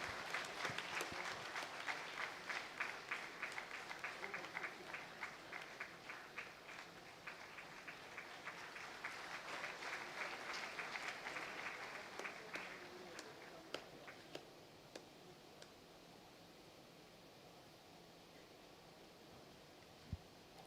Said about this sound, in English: Please join me in applauding this remarkable achievement.